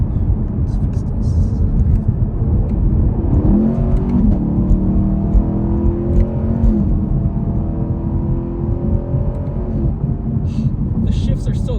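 A Chevrolet Camaro SS 1LE exhaust rumbles loud and close through gear shifts, its steady low drone dipping and rising with brief burbles between gears, a voice talking over it.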